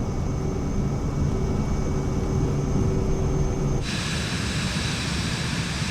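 Vision Jet engine spooling up for takeoff in Microsoft Flight Simulator 2024, a steady loud jet roar that brightens and intensifies partway through as thrust increases, with no voices.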